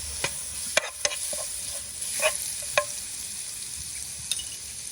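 Garlic and chili frying in hot oil in a pan, a soft steady sizzle broken by several sharp clicks and scrapes of stirring, close and moderately quiet.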